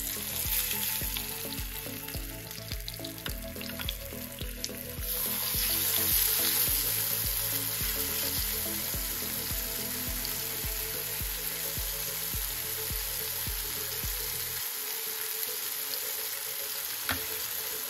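Marinated fish frying in a little oil, a steady loud sizzle with crackle throughout, joined by a background hum and faint clatter partway through before easing near the end.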